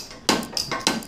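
Three sharp metallic knocks in quick succession as a ram drives out an old fork seal gasket during a conventional fork rebuild on a 2003 Kawasaki Vulcan 800, close and alone.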